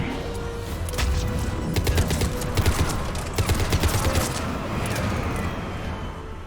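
Rapid bursts of video game gunfire in Mass Effect 3, a dense, continuous firefight with repeated volleys of shots that stays loud throughout, with no talking.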